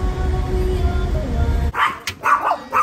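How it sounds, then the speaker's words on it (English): Dogs bark near a home gate: first a low rumbling hum of background noise, then several sharp, loud, close barks and yips in quick succession toward the end. "Y'all bark too much."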